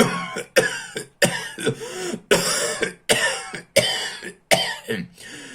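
Repeated harsh, wet coughing fits, about eight bursts in quick succession, close and loud with brief gasps between them.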